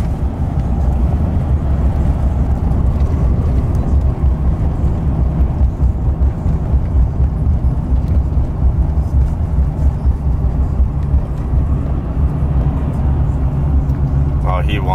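A 2013 Chevrolet 2500 Duramax diesel pickup with compound turbos runs with a loud, steady, continuous engine rumble that holds level throughout.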